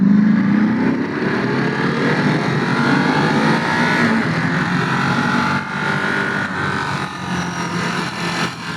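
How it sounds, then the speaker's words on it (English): A Ducati Panigale sport motorcycle rides past on a road, its engine droning loud and close with rising and falling pitch as it goes by, over a steady background of other engine noise. "Mikey wants to drag a knee on Panigale, I see it"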